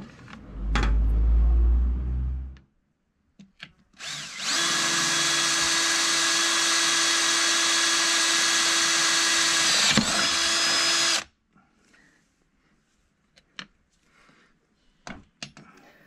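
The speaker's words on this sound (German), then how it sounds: "Hier habe ich einfach die Löcher angezeichnet und gebohrt." A power drill bores mounting holes for a hydrofoil on a boat trailer, whining loudly and steadily for about seven seconds after a brief low rumble, then cutting off into near silence with faint handling clicks.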